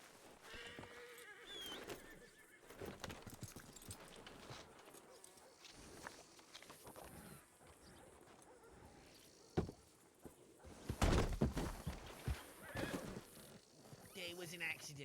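A horse whinnies and neighs in a Red Dead role-play game, along with hoof clops and footsteps, intermittent and moderately close, with people talking over it.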